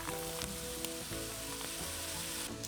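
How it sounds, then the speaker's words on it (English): Garlic sautéing in a pot for a cabbage and smoked sausage soup, giving a steady, close sizzle and frying crackle with a few faint stirring taps, no voices. "And also the garlic, and sauté for about 5 minutes."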